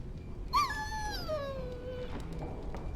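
A warhound in the video game Dragon Age: Origins lets out a single drawn-out whine that slides downward, heard clearly over faint background game ambience.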